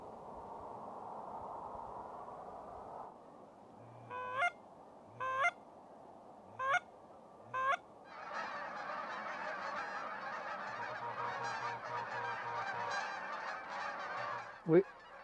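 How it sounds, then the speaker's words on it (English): A large flock of geese honking over a field in winter, a few short bursts of calls at first, then a sustained, dense chorus of overlapping honks at moderate distance, with steady wind or ambient noise beneath. "That was a lot of geese."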